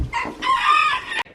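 Backyard chicken flock clucking and crowing close by, a loud, continuous stretch of rooster-like crowing with layered calls that stops abruptly near the end.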